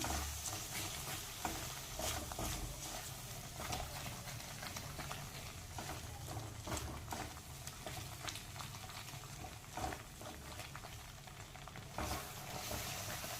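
Pav bhaji masala, spices and butter are stirred together in a pan, giving a continuous soft sizzle with repeated scraping strokes of a spoon, fairly quiet and steady throughout.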